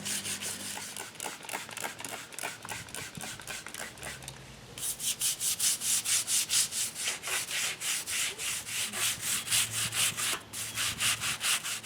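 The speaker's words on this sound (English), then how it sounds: "Using wet, dry sandpaper in case there's any lead in here." Wet-dry sandpaper rubbing old japanning off a Canedy-Otto camelback drill press, rapid rhythmic back-and-forth scrubbing strokes, close and loud, growing harder and faster partway through.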